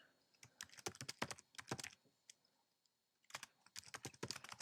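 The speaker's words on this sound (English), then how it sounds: "So all we do is we just type it in." Quick bursts of typing on a computer keyboard, close and fairly quiet, in two rapid runs of keystrokes separated by a short pause.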